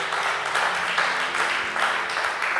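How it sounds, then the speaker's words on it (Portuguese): Congregation applauding during a Portuguese-language church sermon, a steady dense wash of many hands clapping that fills the whole stretch at even loudness, with no break. "Quem pode aplaudir o Senhor?"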